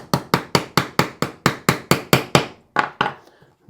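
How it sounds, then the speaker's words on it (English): Steady sharp taps of a nylon armorer's hammer drive the trigger pin out of a Glock 45 frame: about a dozen evenly spaced close knocks, then a short pause and a few final taps. "Get this trigger pin. I always use the nylon side of this armorer's hammer."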